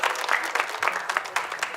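Conference audience in a church hall applauding, a dense burst of clapping from many hands lasting under two seconds, moderately loud and steady.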